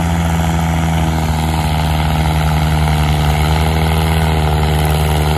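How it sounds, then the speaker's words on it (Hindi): A Mahindra 575 DI tractor in second gear pulls a trolley loaded with soil, its engine giving a steady, loud, droning hum with a constant low pitch throughout, close by and without talk. "महिंद्रा का 575 लो का दूसरे गियर में डाल दिया है"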